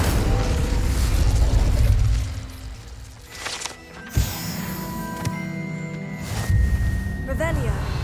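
In Hogwarts Legacy, the Incendio fire spell is cast with a sudden whooshing burst of flame over a rumbling game backdrop, followed by softer mechanical clicks and magical shimmer, while a voice speaks.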